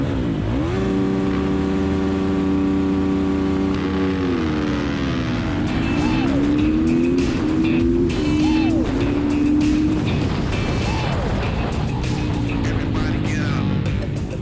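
Supermoto motorcycles roar off the line at a race start, a loud steady engine drone rising in pitch as riders accelerate through the gears, with several bikes blending together up close.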